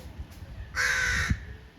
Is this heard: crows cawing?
yes